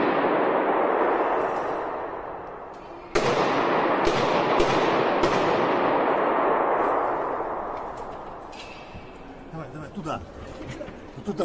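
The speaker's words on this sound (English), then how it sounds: "You hear the gunfire continuing." A roaring din during an attack in Moscow is broken by several sharp automatic gunshots close together, then the noise fades as voices and movement come through near the end.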